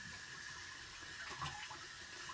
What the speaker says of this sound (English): I'm able to easily rinse off my transfers.